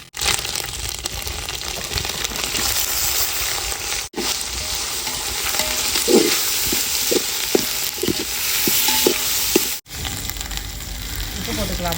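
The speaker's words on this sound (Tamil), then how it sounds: "வெங்காயம் நல்லா வதங்கிடுச்சு தக்காளி போட்டுடலாம்" Onions and tomatoes frying in a pan for country-chicken biryani: a loud steady sizzle, with a string of clinks and scrapes from stirring, brief cuts in the sound and people talking faintly in the background.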